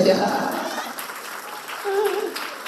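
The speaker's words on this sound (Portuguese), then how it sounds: "pode aplaudir Jesus." Congregation applauding in a church, a soft, steady patter of clapping throughout while voices call out over it.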